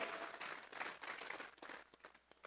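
A church congregation applauds in praise during a sermon, a broad wash of many hands clapping that is very faint and distant, thinning out toward the end with a few scattered claps.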